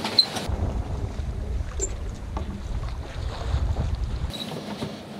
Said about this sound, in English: De wind valt een beetje weg